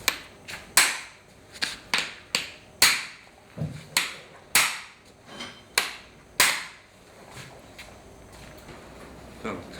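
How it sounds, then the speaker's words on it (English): Sharp metallic hammer taps on clamps fitted to a foundry sand mould ring out one by one at irregular intervals, close and clear, a dozen or so strikes over a quiet background. "And just tap those up with a hammer."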